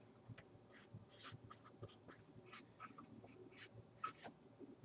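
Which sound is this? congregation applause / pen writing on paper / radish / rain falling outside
pen writing on paper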